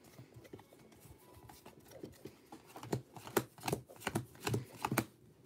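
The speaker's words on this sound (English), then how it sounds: "now we're going to shuffle these" A small pile of Pokémon trading cards, mostly energy cards, being shuffled by hand: close, quick papery riffles and flicks that grow louder and more rapid toward the end.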